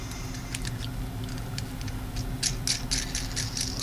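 A wrench spins a mounting bolt up and snugs it down on a gripper fingers fixture for .223 gas checking, a close series of light, rapid ratcheting ticks over a low hum.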